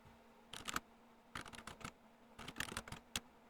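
Small keys on a PicoCalc handheld computer keyboard are tapped in three short bursts of quick, crisp clicks separated by brief pauses, close and fairly quiet with no voices.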